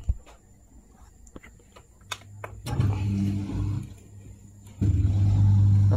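A Beko dishwasher starts up, with faint clicks and taps giving way to a low motor hum that swells after a few seconds and then jumps to a loud, steady running drone.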